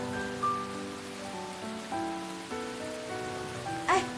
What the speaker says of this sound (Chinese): 哎呦，下雨喽！